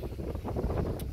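Low, steady rumbling buffets of wind on a microphone, continuous throughout the short moment, with no voices.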